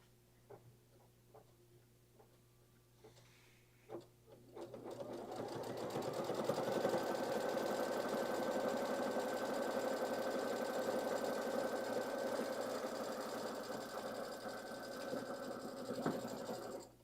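After a few soft taps, an embroidery sewing machine starts up and stitches a flip-and-sew wall hanging in a steady, rapid mechanical whir that runs evenly for about ten seconds before stopping.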